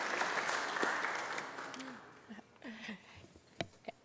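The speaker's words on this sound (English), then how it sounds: "Give a round of applause for the princess." Applause from a city council meeting audience starts dense and fairly loud, then thins and fades, leaving scattered claps and faint voices by the end.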